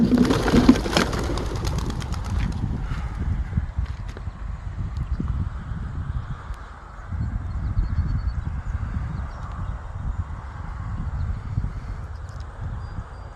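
Young racing pigeons flutter and shuffle close by during training, with a burst of wing flaps at the start and a steady low rustle afterward.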